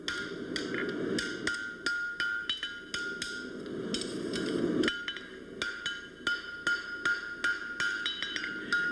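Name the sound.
hammer tapping a shoe on the anvil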